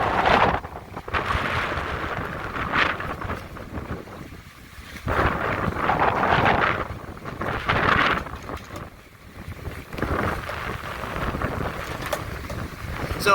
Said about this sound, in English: the wind just started gusting